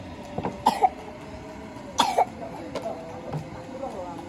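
Two sharp coughs, one early and one around the middle, with fainter throat noises after, heard over a steady murmur of background noise.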